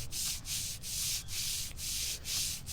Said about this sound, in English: That sounds like plastic rubbing